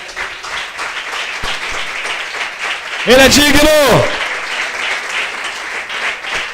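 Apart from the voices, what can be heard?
congregation applauding the Lord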